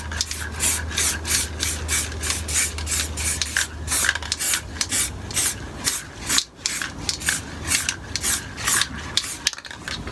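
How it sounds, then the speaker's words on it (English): A spray paint can sprays over a stencil in quick, rhythmic pulses of close, steady hiss that run continuously with brief gaps and no voices. "Go around the edges, painting holding the can pointing inwards on a slight angle"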